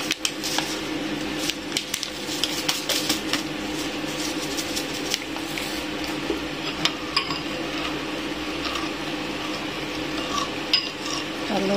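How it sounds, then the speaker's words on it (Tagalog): A spoon stirs sugar into a blackcurrant gelatin mixture in a pot, giving faint, continuous scraping and swishing with light clinks, close and steady, with no voices. "haluin lang ng haluin hanggang ma-dissolve yung sugar"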